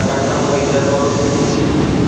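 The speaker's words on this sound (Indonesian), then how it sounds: "KRL yang baru saja saya naikin berangkat menuju stasiun tujuan akhir, yaitu stasiun Angke" A KRL commuter train pulls out of Jatinegara station, a loud steady rumble and hum of rolling stock close by, continuous throughout.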